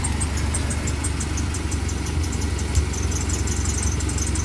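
A car engine idles steadily while its alternator charges, giving a continuous low hum with a faint, even mechanical whine and a slight knocking vibration, loud and close with no voices.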